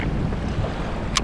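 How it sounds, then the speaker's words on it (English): Wind buffets the microphone on a lake during a windy day of fishing from a boat, a steady rough roar close by with no talk. "the wind is picking up"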